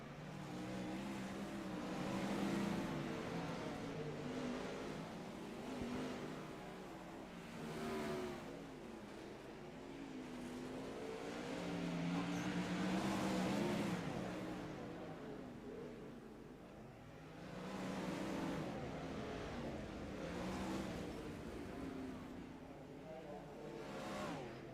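Wingless sprint cars racing around Lernerville Speedway, engines rising and falling in repeated loud swells as the pack passes, with a commentator talking over the roar throughout.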